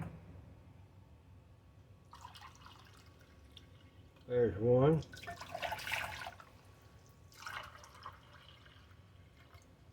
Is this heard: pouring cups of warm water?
yes